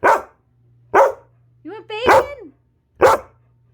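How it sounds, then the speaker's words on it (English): Princess, a pet puppy dog, lets out four sharp barks spaced about a second apart, near and loud, while a person's voice speaks between the barks over a low steady hum. "she's kind of noisy. Noisy dog."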